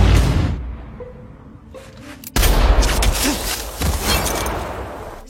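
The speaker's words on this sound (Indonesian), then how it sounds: "ia menembaki satu persatu lampu sorot guna membatasi jarak pandangnya Hyun Sang" Gunfire in a film scene as a soldier shoots out searchlights one by one: a quiet lead-in, then sudden loud bursts of shots with cracks and debris following, close and dense.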